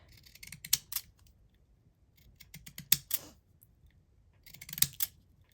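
Scissors trim paper decals in three quick bursts of several crisp snips each, close and fairly quiet, with pauses between the bursts.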